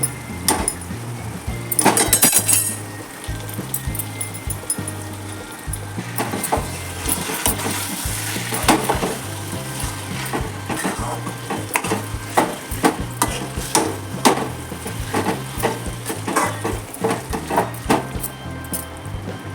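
A spoon stirs smashed boiled potatoes into a simmering curry with garam masala in a pan, giving repeated scraping and clinking strokes over a soft sizzle, close and steady.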